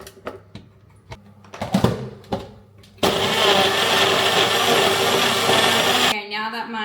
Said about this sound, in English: Get my blender out.